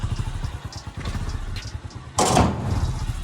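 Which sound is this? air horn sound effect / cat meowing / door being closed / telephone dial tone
door being closed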